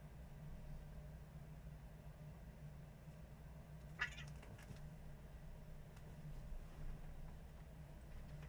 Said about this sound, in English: That was my cats fighting in the background, if anyone heard that.